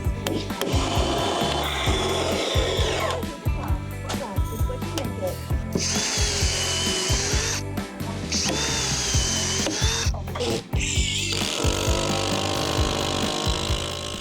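Power tool driving bugle screws into a timber boardwalk, repeated loud whirring bursts with short pauses and ratcheting clicks between screws, close to the microphone.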